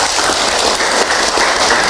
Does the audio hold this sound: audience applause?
yes